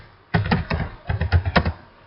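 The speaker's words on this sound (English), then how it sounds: "It's bijective, I'll type it out" Fingers tap a computer keyboard in quick irregular bursts, a steady patter of close keystrokes with short pauses, alone without talk.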